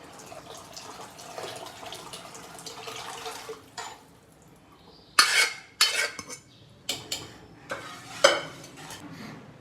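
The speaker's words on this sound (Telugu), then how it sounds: "పప్పు ఇలా రుబ్బుకోవాలి." Cooked dal for sambar being mashed with a utensil in a pot, with soft scraping and stirring at first, then a run of sharper metallic knocks and clatters against the vessel toward the end, close and fairly loud.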